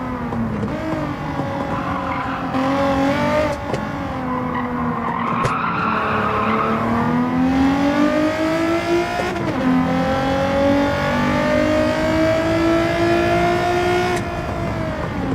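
Race car engine in the Gran Turismo 7 racing game, played in PSVR2, revving steadily with rising and falling pitch as gears shift, while tires skid and squeal loudly through corners for the whole stretch, no talk.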